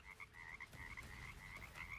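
Fire Frogs spell in the video game Fellowship, a chorus of conjured frogs croaking in a steady rapid series of short bright croaks, fairly faint, with no talk.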